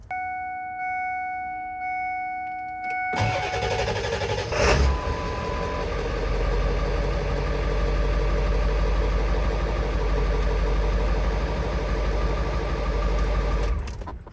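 A Ford diesel engine cranks and catches after a few electronic chime tones, then settles into a steady, loud rattling idle that runs on unbroken until it cuts off.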